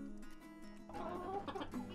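Roosters cluck softly and fairly close, a few short calls rising over a quiet farmyard hum in a brief, faint burst.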